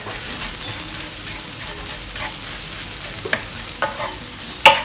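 Thick sambal chili paste being stirred in a pan, a steady soft sizzle and scraping texture with a few sharper utensil knocks near the end, the last one loudest, no talk.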